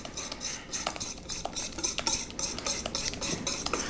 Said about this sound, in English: We're just gonna whisk this in.